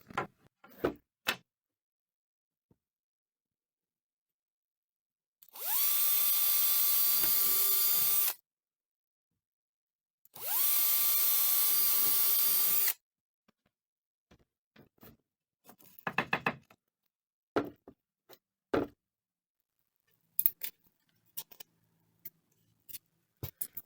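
A power drill bores through a kitchen cupboard foot in two loud, steady whirring bursts of about three seconds each, surrounded by scattered clicks, taps and handling noises.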